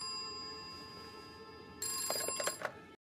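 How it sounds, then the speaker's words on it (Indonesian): A telephone rings in short bright bursts near the end, after a steady hum and faint tonal background; no voices. "tiba-tiba telepon kembali berdering"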